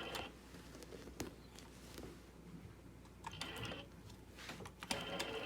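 A sewing machine stitches around an appliqué in a tight space between small grassy shapes, running as a steady low mechanical whir with scattered clicks and taps, fairly quiet and close, with no talking.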